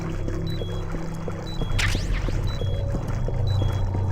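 Character wading through dirty, chemical-tainted water in the video game Metal Gear Solid: The Twin Snakes, with steady sloshing and splashing under a low game hum and brief electronic beeps.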